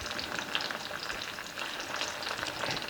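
Okra sizzles and spits in a hot frying pan, a dense, steady crackle of oil that holds at an even level throughout with no voices.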